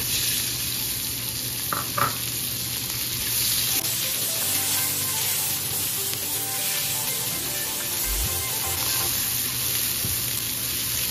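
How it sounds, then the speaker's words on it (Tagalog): Garlic and onion sautéing in a hot pan for Batangas-style caldereta, a steady loud sizzle that runs throughout with occasional stirring scrapes, no voices. "Ngayon naigisa na natin yung ating bawang at sibuyas."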